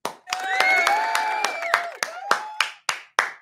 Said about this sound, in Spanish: Aplausos para él